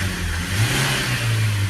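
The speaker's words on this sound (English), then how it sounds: "Now watch when we accelerate it." A Renault Trafic 1.6 diesel engine revs up briefly, a loud mid-pitched engine rising in tone with a brief surge.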